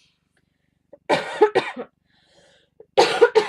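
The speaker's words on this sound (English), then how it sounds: "am so sorry for coughing in your ear." Two bursts of coughing, each a pair of harsh, close coughs separated by a short quiet pause, with a brief spoken word near the start.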